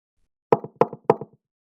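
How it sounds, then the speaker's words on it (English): Three sharp knocks on a door in an even, quick rhythm, close and clear with silence around them, in a modern fairy tale retelling of the grasshopper and the ant. "Grasshopper knocked on Ant's door."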